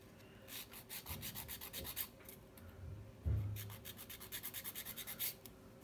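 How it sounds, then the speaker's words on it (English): A hand file rubs back and forth across polygel nails during an ombré manicure, two bursts of quick, even rasping strokes, close and fairly quiet with no talking. "Right, so I'm going to use a hand file."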